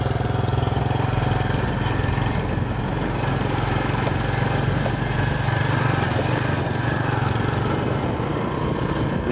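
A motorbike engine runs steadily throughout, a continuous low drone with a rough, knocking texture, close and loud, at an early-morning start for a long ride carrying two guitars.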